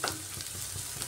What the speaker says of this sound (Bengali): কড়া করে ভেজে নিয়েছি পেঁয়াজটাকে